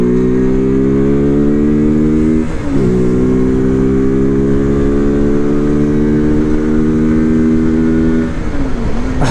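A Morbidelli F125 motorcycle, 14.5 horsepower, idles and revs close by with a loud, steady buzzing exhaust note. Its pitch climbs gradually, dips briefly twice, then rises again.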